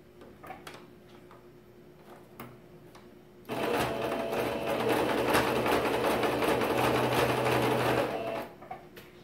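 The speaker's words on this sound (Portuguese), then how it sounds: "Lembrando que a costura zigue-zague é para fixar tudo, para depois é passar a costura reta definitiva." A sewing machine stitches a zigzag seam through layered fabric for a double pencil case, starting after a few soft clicks and running steadily and close for about five seconds before stopping, with no talking.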